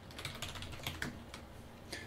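Quick, fairly quiet keystrokes tap away on a computer keyboard as C++ code is entered, an irregular run of light clicks with short pauses between them.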